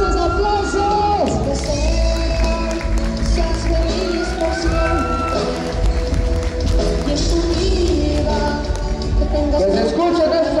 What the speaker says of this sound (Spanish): A ver que se escuchen esos aplausos.